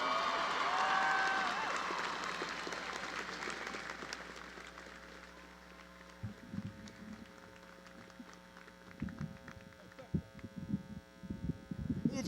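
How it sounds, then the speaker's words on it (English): Graduates at a university commencement ceremony give a burst of applause that starts strong and fades, followed by quieter hall ambience, scattered claps and people talking near a microphone. "Give yourselves a round of applause."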